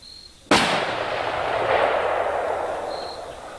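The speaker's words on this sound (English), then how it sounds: "let's shoot our 180 grain bullets and see what happens." Rifle firing a 180 grain bullet outdoors: one sharp, loud, close gunshot followed by a long rolling echo that fades slowly over several seconds.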